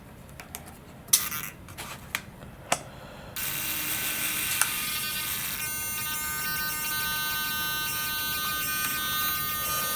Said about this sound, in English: So then we're going to turn our tester on. We're going to move the servos a little bit.